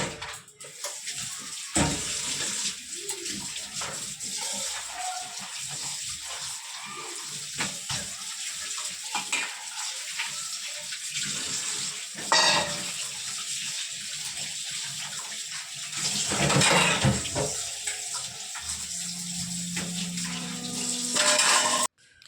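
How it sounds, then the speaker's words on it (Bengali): Dishes being washed under a running tap, a steady rush of water carrying on throughout with intermittent clinks and clatters of pots and plates, close by. "বাসন ততক্ষণ ধুয়ে নিই আমি"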